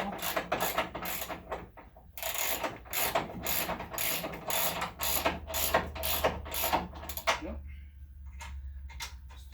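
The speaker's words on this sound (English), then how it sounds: "Grab a socket of the appropriate size." Socket wrench ratcheting on a nut while fitting a Quad 4 E1 race motor, a series of quick clicking bursts with brief pauses, close and fairly loud, ending in sparser clicks over a low hum.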